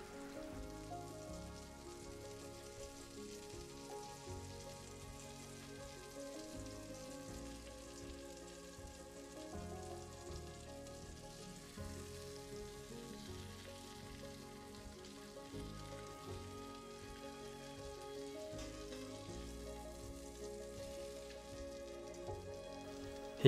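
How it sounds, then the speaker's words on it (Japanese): Sole fillet frying in foaming brown butter in a pan, a steady, dense sizzle and crackle that holds evenly at close range with little change. "たまに鍋をゆすって均一なブールノワゼット焦がしバターの状態を保ちながら黄金色に焼き上げていきます"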